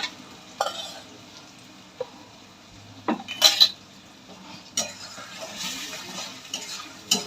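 Spice paste of tomato, onion, ginger and garlic frying in a pan, a low sizzle punctuated by spoon clinks against the pan and scraping stirs, close and intermittent, with no speech.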